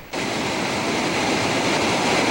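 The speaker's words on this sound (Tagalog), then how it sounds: "dahil sa lakas ng ragasa ng tubig dito sa Dicaloyongan River" A loud, constant roar of the flooded Dicaloyongan River rushing kicks in abruptly and holds steady throughout, dense and close.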